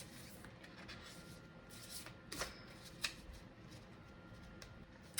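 A Mystical Shaman Oracle card deck being shuffled by hand, a soft, close run of riffling and sliding cards with a few sharper snaps, quiet throughout.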